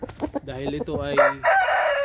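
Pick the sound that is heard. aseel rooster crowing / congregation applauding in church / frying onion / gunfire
aseel rooster crowing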